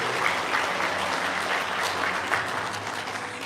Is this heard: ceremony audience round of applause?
yes